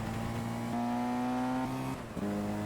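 A race car engine from the PC racing game GT Legends drones at steady revs, then shifts pitch as the gear changes, loud and alone with no talking.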